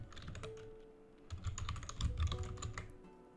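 Quiet tapping of keys on a computer keyboard, two short bursts of typing separated by a brief pause, close and clean with no voices.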